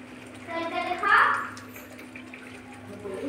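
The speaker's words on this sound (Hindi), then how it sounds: "देखिए पानी डालेंगे अभी" Water poured into a cooking pot of chopped tomatoes while making tomato soup, a brief splashing pour that swells near the middle and fades, heard close under a steady background hum.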